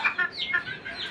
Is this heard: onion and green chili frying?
no